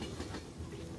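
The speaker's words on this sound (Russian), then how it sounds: "Все-таки там был поезд." A train rolls past in the video game Get Even, a steady rumbling clatter of wheels and carriages filling the whole second at even loudness, with no talk over it.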